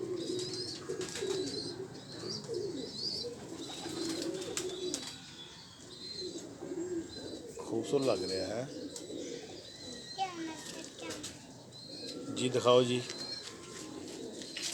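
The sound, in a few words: pigeons cooing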